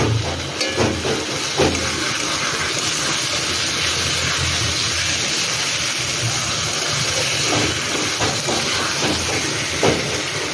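Soaked rice sautéing in a hot pan for Bengali muri ghonto gives a loud, continuous sizzling hiss, with occasional scraping and stirring knocks, close up and with no talking.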